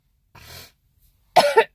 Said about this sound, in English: I still got a little cough.